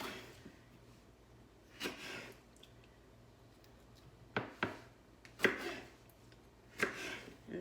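Knife trimming the ends off sweet mini peppers on a cutting board, a few sharp separate chops spread across a quiet stretch, close and crisp, with no voice.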